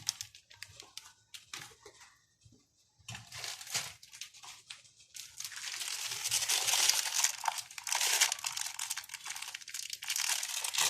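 Plastic bag of salt crinkling and rustling close up, quiet scattered crackles at first, then denser, louder crinkling for the second half as the bag is handled.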